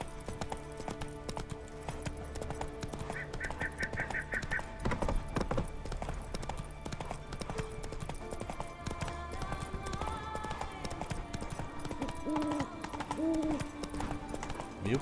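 Steady clip-clop of horse hooves while riding in The Witcher 3, a continuous even trot with game music and ambience underneath and a brief whinny.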